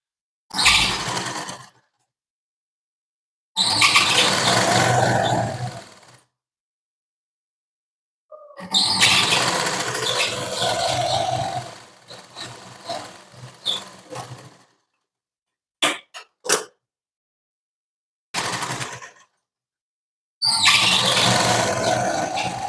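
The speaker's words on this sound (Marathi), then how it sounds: "दोन्ही साईडने आपल्याला इथे शिलाई मारून घ्यायची आहे" A sewing machine stitches a strip onto a blouse back-neck in repeated bursts of a few seconds each, with short sharp runs toward the end and silent pauses between them, heard close up with no talking.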